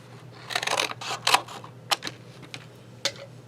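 A sheet of cardboard is cut along a marked line in a series of short, crisp crunching snips. The bursts come close and irregular between brief pauses.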